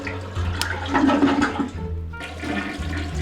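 A toilet flushes inside the Academia: School Simulator video game, a loud close rushing swirl of water that dips briefly and then resumes draining.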